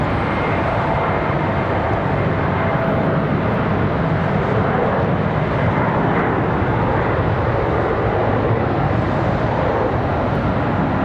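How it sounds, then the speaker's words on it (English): An airliner departs from Charlotte Douglas International Airport, a steady, loud engine roar holding broadband and unbroken across the whole stretch with no voices. "Comes another departure."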